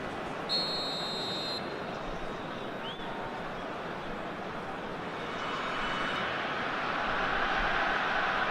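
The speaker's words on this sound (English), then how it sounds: "There's the whistle then to start the second half." A referee's whistle blows a single steady blast to start the second half of a tied football match, sharp and brief against a broad roar of stadium crowd noise that swells toward the end.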